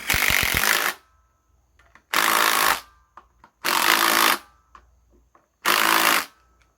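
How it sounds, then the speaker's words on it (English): An impact wrench snugs bolts onto a billet ICT power steering bracket on an LS engine, running in four loud, separate bursts of about a second each with quiet pauses and small clicks between them. "I'm just going to run it up with this impact, just snug it."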